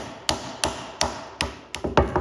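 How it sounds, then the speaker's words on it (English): Six sharp metallic hammer taps on the base of a 6.9 IDI diesel starter motor during a rebuild, roughly evenly spaced at first, then quicker toward the end, close by with no talking. "we're just going to give it a gentle smack with the old hammer there."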